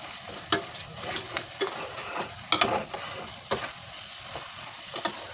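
A grandmother stirs food frying in a scorched pan, with a steady sizzle broken by repeated sharp scraping and clinking of a utensil against the pan, with no voices.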